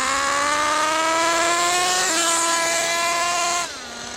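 A nitro-fuelled RC car engine runs rich while being broken in, a loud buzzing whine climbing steadily in pitch with a brief gear-change dip, then dropping off sharply near the end.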